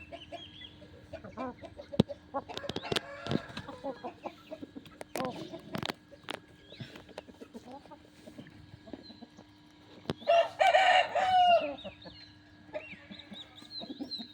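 Hens cluck in scattered bursts nearby, then a rooster crows loudly, set against low background hum and occasional knocks.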